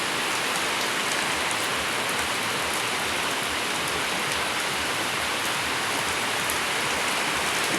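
Heavy rain pours down steadily, a dense, constant hiss of drops hitting surfaces close by, with no talking.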